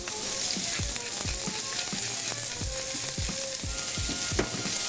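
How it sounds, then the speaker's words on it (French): Courgettes sautéing in olive oil with salt and pepper hiss in a continuous close sizzle, punctuated by rapid, regular tossing and stirring knocks, with no speech. "on les fait sauter jusqu'à ce qu'elles soient colorées"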